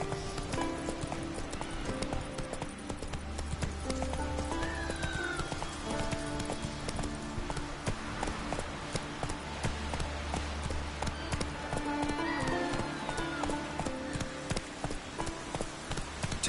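The horse Roach gallops in The Witcher 3 video game, a rapid rhythmic clip-clop of hooves running steadily and close, with brief whinnies and faint game music behind.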